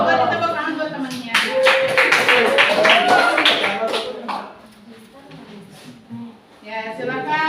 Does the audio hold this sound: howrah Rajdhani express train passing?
no